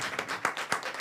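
Congregation applauding during a church service, a steady crowd of hands clapping with a few sharper peaks, moderately close and without talk.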